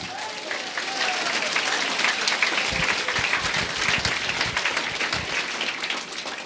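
A church congregation applauds in a sustained wash of clapping that fills the room for several seconds, dense and fairly loud, with a voice speaking briefly over it.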